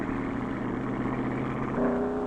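Racing car fishtailing at takeoff, a steady loud engine drone with a shift in pitch near the end, heard alone without talk.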